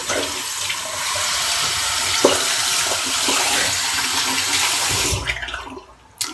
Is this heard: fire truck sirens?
no